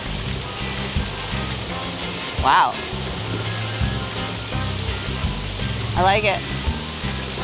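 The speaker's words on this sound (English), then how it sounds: "This is the splash pad area for the kiddos." Water sprays and splashes continuously at a children's splash pad on Lookout Cay, Disney's cruise island, a steady rushing hiss with a person talking over it.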